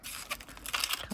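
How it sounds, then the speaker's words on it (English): Adhesive tape being cut off the roll for a UV resin jewellery and keychain project, with a short series of close, crisp crinkling and snipping sounds. "let's just cut some of that off"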